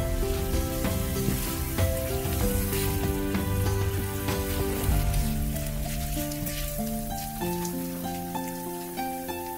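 Kimchi fried rice sizzles and crackles as it is mixed and stir-fried in a pan, a steady frying hiss under loud background music with melodic tones.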